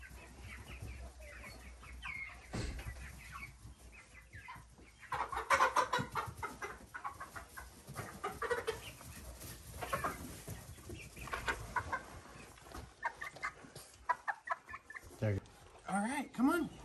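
Chickens cluck and murmur in short bursts at moderate distance, with people talking quietly now and then.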